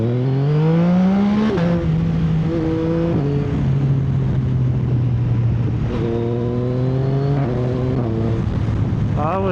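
A Yamaha Tracer 9 motorcycle engine revs and shifts through gears while riding, rising pitch sweeps stepping down at each change, loud and steady under continuous wind noise.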